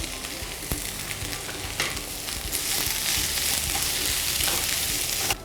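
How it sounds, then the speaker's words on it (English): Onions and capsicum roast in a pan over low to medium heat, making a constant crackling sizzle with a few sharp pops and scrapes, close and alone without talk. "Notice that the onions and the capsicum have been roasting for about good 5 minutes"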